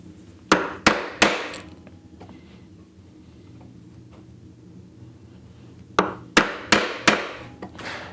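A chisel is struck hard into scrap wood in sharp, close knocks: a quick run of three blows, a quiet pause, then a second run of five.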